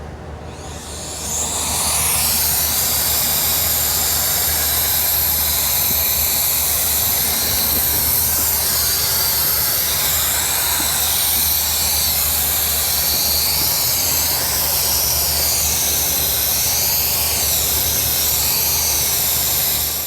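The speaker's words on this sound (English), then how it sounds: "Let's see how the jet fan does." A KiCA Jet Fan 2 cordless jet blower spins up within two seconds, then roars at a steady high-pitched whine of rushing air, loud and close, with no talking.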